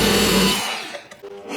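A 12 mm metal drill bit bores into a painted guitar body, a loud grinding whine for the first half second, then cutting off into quieter handling noise and faint clatter.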